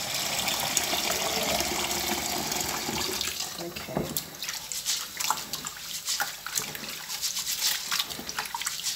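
Goat and chicken meat are rubbed hard by hand in a bowl of water, with tap flow and splashing giving way to uneven sloshing and dripping, and a voice speaks briefly.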